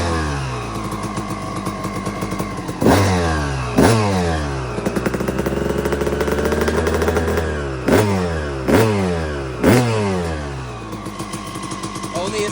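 A restored 2002 Suzuki RM250 two-stroke dirt bike idles with a rattly buzz, blipped to higher revs several times in sharp bursts, loud and close, with an occasional voice under it.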